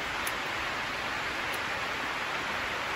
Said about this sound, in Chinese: 下了好大雨